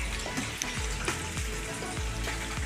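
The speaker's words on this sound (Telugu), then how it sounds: "వంకాయ బాగా వేగింది మరీ బాగా వేగితే విడిపోయింది అనమాట" Eggplant (brinjal) pieces frying in hot oil in a pan produce a steady, close sizzle, with a few soft bubbling pops running through it and no voices.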